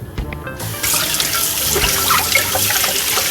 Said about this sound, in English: the first thing I'm going to do is wash this butter squash.